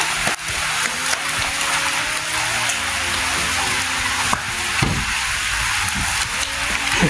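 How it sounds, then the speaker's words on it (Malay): Steady rain falls on surfaces in a village in Banting, a dense, even patter of drops that goes on without a break, with a few louder taps standing out close by. "Hujan guys,"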